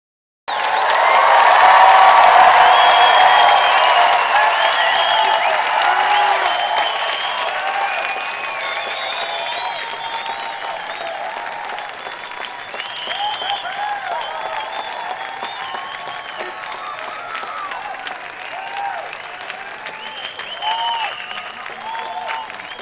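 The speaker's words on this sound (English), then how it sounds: "I'm asking you to cheer for these graduates as if our lives depended on them" A large crowd at the 2017 UC Berkeley English Department spring commencement applauds and cheers for the graduates, loud and dense at first, then settling into steady clapping with scattered whoops for about twenty seconds.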